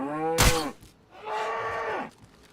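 Cattle in the DayZ survival game give two loud, close moos, a short harmonic call followed after a brief pause by a longer drawn-out low bellow.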